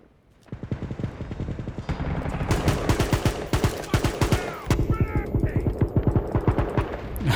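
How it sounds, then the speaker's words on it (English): Rapid burst-fire gunshots ring out in the online shooter WW3 during a team deathmatch, coming in loud clusters of sharp cracks almost nonstop, with a player's voice cutting in. "It's all about that burst fire."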